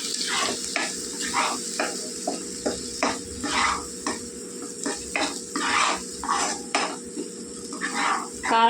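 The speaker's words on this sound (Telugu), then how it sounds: "కొద్దిగా కలుపుకుందామండి బాగా కలిసేలాగా." Paneer masala gravy being stirred in a pan, with repeated scraping and clinking of a spoon against metal every half second or so over a low sizzle, close and fairly loud.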